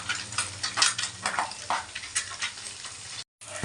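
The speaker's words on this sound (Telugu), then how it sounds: "గుడ్లు వేపుతున్నాను ఫ్రెండ్స్" Eggs frying with turmeric in a pan, a bright steady sizzle with scraping stirring strokes in uneven bursts, close and clear, briefly cut to silence near the end.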